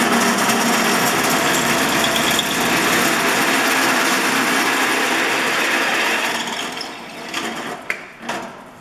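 A power drill bores a hole through a clamped workpiece set in a drill gauge, running as a steady, loud, continuous whine for about six seconds before winding down into a few brief clatters.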